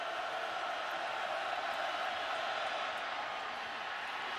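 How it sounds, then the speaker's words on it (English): A loud stadium crowd roars at an Iowa State football game in Ames, a sustained, even wash of distant voices and cheering that holds steady throughout. "Loud crowd here in Ames for 3rd and 13."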